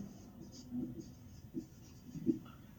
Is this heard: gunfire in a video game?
no